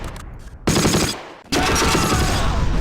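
Loud, close gunfire in the Close Combat war video game, set around Mortain in 1944, as a flak gun is shot at: two dense bursts of rapid automatic fire split by a brief lull, with no voices.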